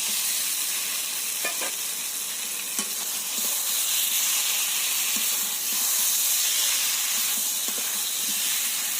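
Pointed gourd and potato pieces sautéed in an oily spice paste hiss and sizzle steadily in a pan, with a few faint scrapes of stirring over the constant frying.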